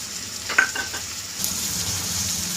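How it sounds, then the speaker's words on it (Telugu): Onions and green chillies fry in a pan for a mutton keema dish. A soft sizzle carries a brief metallic clink early on, then swells into a fuller, steady hiss partway through. "ఇప్పుడు ఆనియన్స్ వేసేసుకుందాం. ఆనియన్స్ వేసుకుందాం. ఇప్పుడు పచ్చిమిర్చి కూడా వేసుకుందాం"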